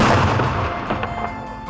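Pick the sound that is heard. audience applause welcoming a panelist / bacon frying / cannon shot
cannon shot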